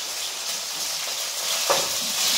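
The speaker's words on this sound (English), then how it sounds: "I'm putting vegetables in the wok so that they cook." Vegetables sizzle steadily in a hot wok, a bright continuous crackle with a slight surge near the end as they are tossed, close and loud with no talking.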